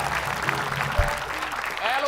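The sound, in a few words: audience clapping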